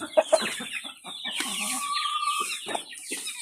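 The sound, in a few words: chickens clucking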